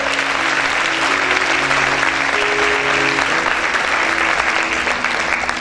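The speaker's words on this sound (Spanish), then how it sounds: "Dale ese fuerte aplauso al Señor." A church congregation breaks into loud, sustained applause during a worship service, dense clapping from a large crowd filling the room for several seconds.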